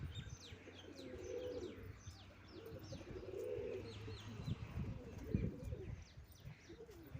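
Pigeons coo in soft repeated low burbles, with sparrow-like chirps scattered above and a constant low hum in the background.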